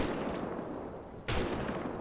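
Gunfire in a GTA 5 zombie apocalypse mod: a loud, sharp shot lands abruptly near the end of a dense, steady bed of game noise, with no speech.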